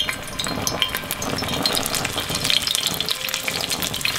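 Oil bubbles and sizzles steadily with crackling pops, close up, while deep frying vegetarian drumsticks, with occasional light clinks throughout.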